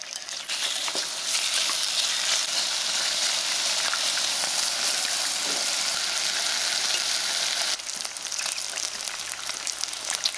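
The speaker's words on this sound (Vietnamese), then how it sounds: "Thịt ba rọi mình sẽ đem đi xào cho thịt ra mỡ và săn lại." Pork belly stir-frying in a pan as its fat renders, a dense steady sizzle with crackling pops throughout, briefly dipping near the end before resuming, loud and close with no voices.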